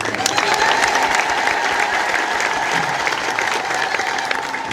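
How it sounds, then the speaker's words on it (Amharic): Continuous applause from a church audience during a sermon, a loud, even roar of many clapping hands that holds steady throughout, with a faint sustained tone and murmuring beneath. "ያለው ሰውና ጭብጨባው የተመጣጠነ አይመስለኝም።"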